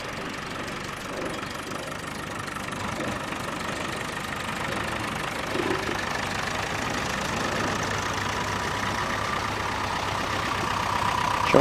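Steady rumble of tractor engines running and idling as they arrive, a continuous mechanical drone with a slight rise toward the end, no voices.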